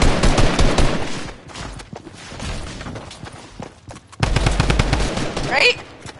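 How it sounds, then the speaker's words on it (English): Rapid bursts of automatic gunfire in a Fortnite match, loud and close, with crackling volleys that pause and then resume, and a voice heard briefly between the shots. "I'm getting shot from both ways."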